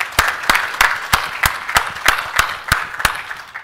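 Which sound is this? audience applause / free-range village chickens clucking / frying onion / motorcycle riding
audience applause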